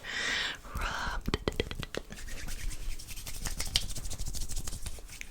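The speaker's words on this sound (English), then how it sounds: "And really rub it in to the right side. And really grasp all the endings in your hair and just rub" Close, soft rubbing and scrunching as hands work an unscented hair product through the ends of the hair during a haircut, with a soft-spoken voice in the middle of the clip.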